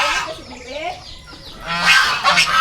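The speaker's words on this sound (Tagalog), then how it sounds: "Ayun doon sa gilid ang mga gansa." Geese honk nearby at the edge of a farmyard, a flurry of loud, nasal calls rising and falling in bursts, with a voice speaking faintly beneath them.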